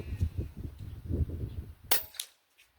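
A budget PCP air rifle fires one sharp, close crack, shot from a backpack and rear bag rest. Low rumbling background noise comes before it, and a brief fading tail follows.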